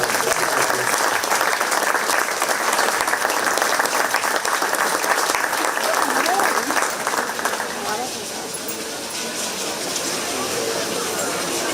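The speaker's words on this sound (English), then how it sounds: "Let's give a nice round of applause for Olivia Jens, the recipient of the Bob Smith Memorial Scholarship." A fair crowd applauds a 4-H scholarship recipient with steady, dense clapping that stays loud and continuous, then eases slightly in the final seconds, with faint voices mixed in.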